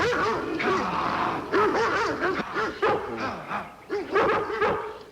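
An Army shepherd dog barking and yipping outdoors, a series of sharp, close barks in irregular bursts with brief whimpering gaps between them.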